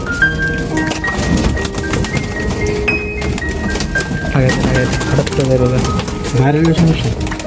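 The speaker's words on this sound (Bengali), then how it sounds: "কবুতরকে পানি দিচ্ছে রাসেল" Pigeons coo in soft, repeated throaty rolls close by, mixed with people talking and general background bustle.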